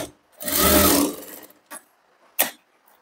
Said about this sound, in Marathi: मी पुन्हा एक